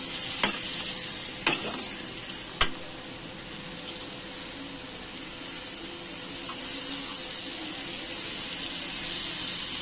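Cauliflower and potato are stirred in a hot pan over a steady sizzle, with a few sharp utensil clacks against the metal early on, then continuous frying hiss.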